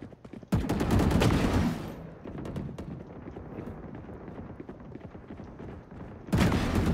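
Rapid gunfire bursts from a shooter video game, loud and dense at the start, then dropping to quieter scattered shots and background noise before another heavy burst erupts at the end.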